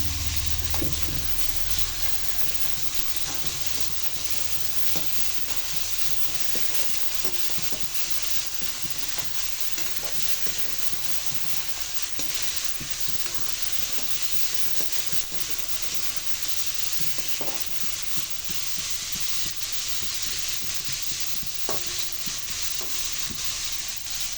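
Pork belly adobo frying in a pan with meat juices released, a steady close sizzle running throughout as it is stirred, with occasional scraping and light clinks over the hiss and no talking.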